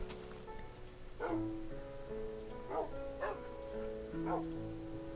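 A dog in the Minecraft video game whimpers and yips in short, high whines spaced a second or so apart, set over light, steady background music.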